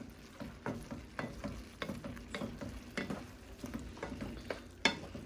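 Hamburger Helper beef pasta stirred in a pan with a spoon, giving a run of close scraping, scooping strokes in an uneven rhythm over a soft sizzle, with one sharper knock near the end.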